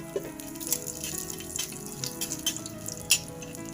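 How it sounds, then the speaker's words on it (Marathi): Oil poured from a container into a pan before roasting dry masala for a black fish curry, a steady liquid trickle with faint splashy drips, close and alone. "तर आता आपण याच्यामध्ये तेल घालून घेऊया।"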